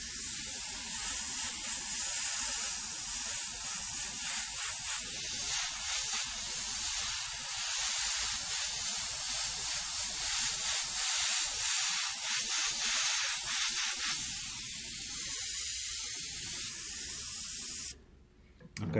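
An airbrush sprays red paint for fire graphics in a continuous close hiss, holding steady for most of the time before cutting off briefly near the end.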